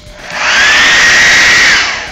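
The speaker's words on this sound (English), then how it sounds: "let's use the hair dryer now" A hair dryer blows on a dirty SteelSeries 7G keyboard during cleaning, a loud, steady whoosh and a high whine that spins up, holds, then winds down over a couple of seconds.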